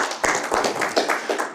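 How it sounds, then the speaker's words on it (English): An audience applauds a speaker at a chairmen's conversation event, a short burst of dense, steady clapping from many hands that fills the whole moment. "let's give him a round of applause also"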